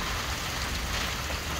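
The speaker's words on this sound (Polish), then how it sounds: "Dziękuję Panie Boże za deszcz." Heavy downpour in a Polish village, a dense, steady hiss of rain falling close by with no break and no voices.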